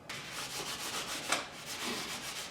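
Someone hand-sands a metal motorcycle fork tube lower with 600 grit sandpaper, producing soft, rhythmic back-and-forth rubbing strokes, close and fairly quiet, with one sharper scrape midway.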